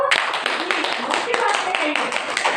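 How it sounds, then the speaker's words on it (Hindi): An audience at a spiritual discourse breaks into clapping on cue, a brisk, dense burst of hand claps filling the short clip close and loud. "अपने लिए ताली हो जाओ।"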